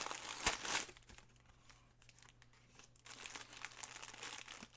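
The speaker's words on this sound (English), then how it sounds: "I'm going to cut this crinkling out right here while I open these." Crinkly plastic packaging from a happy mail parcel is cut open, with a loud burst of close crinkling at first, a quieter stretch of faint rustles, then renewed crackling handling toward the end.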